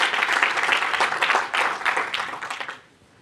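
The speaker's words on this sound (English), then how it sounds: "Let's welcome Linda to the stage with a round of applause" An audience applauds to welcome a speaker to the stage, the clapping swelling in pulses for a few seconds before tapering off into quiet.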